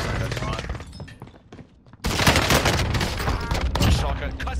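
Shotgun gunfire in Call of Duty Cold War Warzone, a custom Gallo shotgun, with loud blasts and a burst of shots after a brief lull, under excited player voices.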